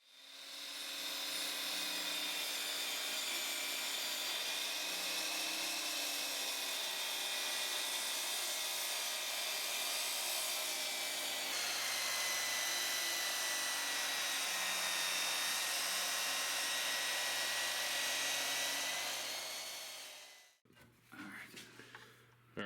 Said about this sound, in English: so we made it through with the saw